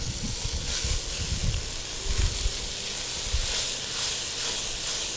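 Three diced onions with a little sugar fry in a pan, giving a soft, continuous sizzle and hiss with faint scraping stirs, quiet and close with no voices over it.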